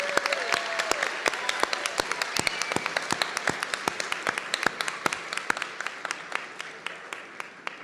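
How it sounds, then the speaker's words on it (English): A crowd at a Virginia education week launch applauds the teachers, many hands clapping moderately loud with sharp individual claps standing out, fading gradually in intensity over about eight seconds. "please give a large round of applause to all"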